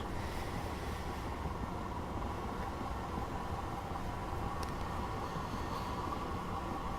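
A train running on rails in the Train Simulator 2018 game, a steady, continuous rumble and hum of the moving train at speed, loud and unbroken throughout.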